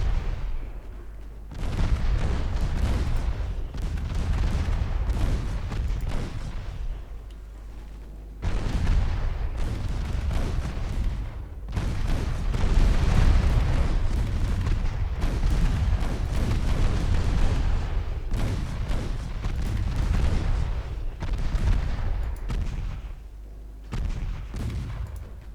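Warship naval guns fire in the game Ultimate Admiral Dreadnoughts, loud booming salvos rolling into long rumbling barrages that swell and fade over and over, with no talking.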